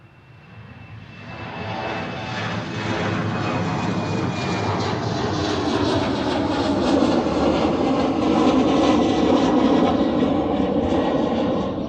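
An airliner departing Amsterdam Schiphol on a flight to Leeds, its engine roar building over the first seconds into a loud, sustained broadband rumble with a thin whine on top, holding steady to the end with no talking.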